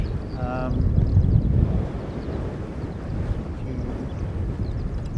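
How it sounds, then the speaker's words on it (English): Strong gusty wind at Christchurch airport buffeting the microphone, a loud low rumbling roar that swells and eases, with brief voice-like tones early on. "it's pretty breezy here in Christchurch"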